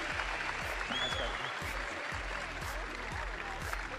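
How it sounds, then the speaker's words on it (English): A crowd at a fight night weigh-in event applauds as the fighters leave the stage, a steady mass of clapping with faint talk and low rhythmic thumps from music underneath. "Give these guys a round of applause as they leave stage."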